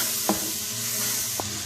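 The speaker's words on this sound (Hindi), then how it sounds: "5 मिनट के लिए अच्छे से फ्राई कर लेते हैं।" Masala spices frying steadily in hot oil in a pan give a continuous close sizzle, with two brief stirring scrapes and no talking.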